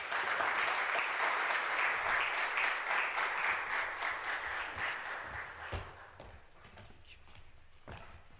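Conference audience applause welcoming a professor at an arts school event, a dense, sustained burst of clapping from a crowd that slowly thins and fades out over several seconds, ending in a few scattered claps.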